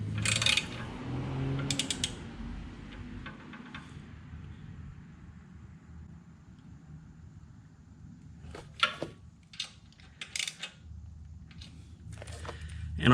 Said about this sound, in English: we're gonna tighten these mounting points on the bike